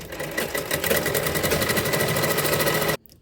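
Sewing machine stitching a seam through two pieces of fabric for a French seam finish, a steady rapid mechanical whir with fast regular needle beats, close and loud, stopping abruptly near the end.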